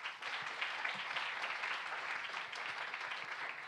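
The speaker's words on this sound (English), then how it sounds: "So give yourself a round of applause." Steady, fairly faint applause rises from the audience at a Hong Kong youth English public speaking contest, a continuous patter with no voices.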